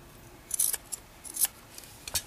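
Scissors snip through fabric while a pair of jeans is hemmed: about four short, crisp cutting bursts, close and fairly quiet, with pauses between them.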